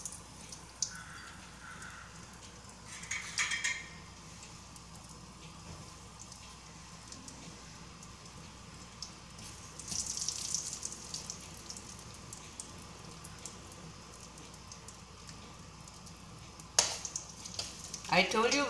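Mustard seeds and asafoetida sizzling in hot oil for rava idli, a steady low frying hiss with occasional louder crackles and bursts and faint background clatter, close and continuous.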